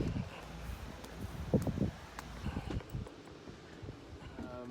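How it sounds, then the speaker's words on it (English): Gusty wind buffeting a microphone outdoors beside a Winnebago Travato camper van, a steady broadband rush with louder swells and brief thumps of rustling. "it's pretty windy"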